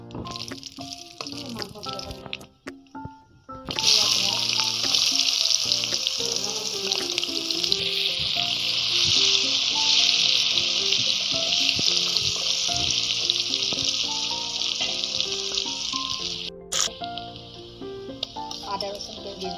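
Cumin seeds and cinnamon pieces hit hot oil for an Assamese duck dry fry, a close, steady crackling sizzle that rises suddenly and holds loud over a low background with faint clinks.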